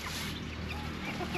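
Pet ducks and chickens in a backyard pen, fed corn rice, make a steady low-level fowl chatter with soft quacking and clucking throughout, moderately close, with no talking.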